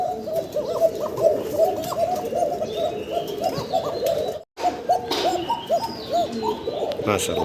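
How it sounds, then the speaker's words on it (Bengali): Fancy kokka pigeons coo continuously in soft, rolling, repeated calls, with occasional chirps from other birds and a brief gap of silence partway through. "ককার যে ডাক মধুর ডাক মধুর ডাক শুনতেছি আমরা"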